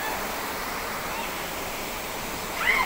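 Steady broadband rush of water flowing, like a stream or small falls at an outdoor swimming spot, continuous and fairly close, with a brief brighter splash near the end.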